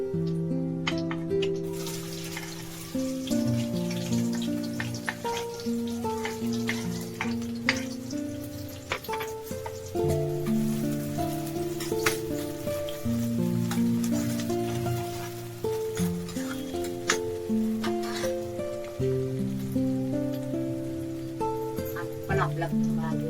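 Onion frying in hot oil with curry leaves in a pan, a continuous soft sizzle running beneath louder background music.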